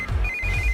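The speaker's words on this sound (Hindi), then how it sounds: "इस वक्त दीदी का फोन।" A telephone rings with a steady electronic tone that pulses in a rapid trill, clear and fairly close in a quiet room, with no one talking.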